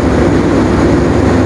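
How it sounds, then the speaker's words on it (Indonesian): Argo Merbabu passenger train standing at platform 5 of Cirebon station in the early hours, a steady loud rumbling drone of idling engine and station ambience with no break, no voices. "kereta api Argo Merbabu masih standby di peron 5 stasiun Cirebon"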